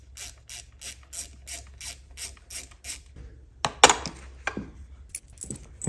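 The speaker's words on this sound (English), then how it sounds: "Grab a trusty quarter inch ratchet. Torquing those feel pretty good." A quarter-inch ratchet torquing bolts on a locked-up Kawasaki KX250F dirt bike engine, giving a steady run of about nine close, crisp pawl clicks, then a few louder metallic clanks and scrapes as the tool is handled.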